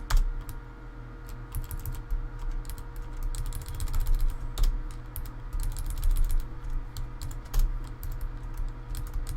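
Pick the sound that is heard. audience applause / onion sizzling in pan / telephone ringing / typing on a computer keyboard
typing on a computer keyboard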